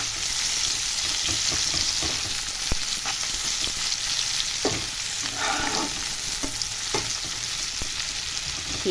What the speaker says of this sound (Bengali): পেঁয়াজটা একটু ভাজা ভাজা হলেই দেবো শাক